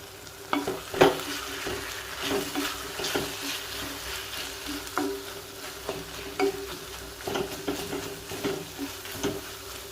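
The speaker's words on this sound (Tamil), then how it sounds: "மல்லி கருவேப்பிலை போட்ட பிறகு ரொம்ப நேரம் வதக்க வேண்டாங்க, ஒரு கிளறிட்டு நம்ம அணைச்சிடலாம்" Coriander and curry leaves sautéing in a pan for kadamba chutney, a quiet continuous sizzle broken by repeated stirring scrapes and taps of a spoon, close and fairly faint.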